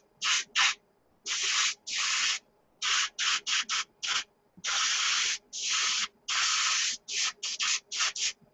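Paint sprays onto a Tamiya 1:72 SU-34 model in short hissing bursts, about sixteen close, sharp spurts of varying length separated by brief silences.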